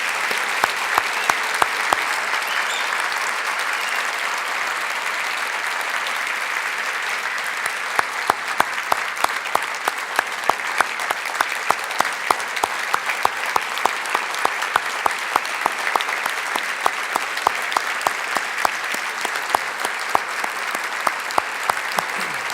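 Long, steady applause from a large audience at a city's State of the City address honoring a mayor emeritus, dense and continuous with sharp individual claps standing out throughout.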